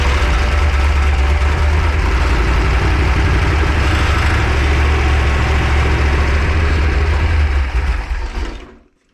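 A 408 stroker engine runs loud and steady with a dense low rumble throughout, then cuts off and fades out near the end.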